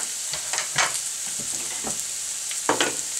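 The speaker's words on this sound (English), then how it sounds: "Let's throw in the green onion" Green onion and ginger root sizzle in a hot pan over medium-high heat, with a steady frying hiss broken by scraping stirring strokes, close up and without talk.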